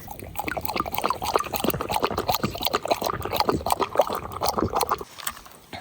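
Water is poured into a bowl for a dog at an off-grid truck campsite, a busy gurgling, splashing stream for about five seconds that stops abruptly near the end.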